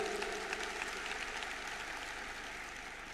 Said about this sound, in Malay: Saya kasih tepuk tangan ke leader-leader.